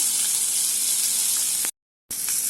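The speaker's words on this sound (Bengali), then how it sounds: "আমি শ্যালো ফ্রাই করেছি মোটামুটি, আপনারা দেখুন" Fish shallow frying in a very small amount of oil, a loud steady sizzle and hiss close by that cuts out briefly and then returns.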